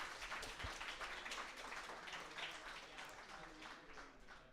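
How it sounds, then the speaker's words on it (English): An audience at a folk games event breaks into sustained applause, a dense, even wash of clapping that holds steady throughout at a distance, with faint voices underneath. "and yes, round of applause"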